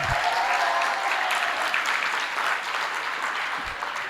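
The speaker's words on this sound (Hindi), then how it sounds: "केसरी के लिए तालियां बजा दो।" Gathering at a Jain religious discourse applauding for Kesari, continuous dense clapping at an even level throughout, with a couple of low thumps.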